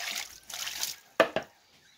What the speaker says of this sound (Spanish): Hay que echarles agua para que se les vayan un poco.